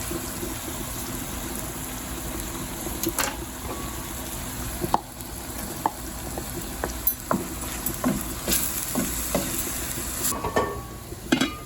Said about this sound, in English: I love the onions when it's in the oil by itself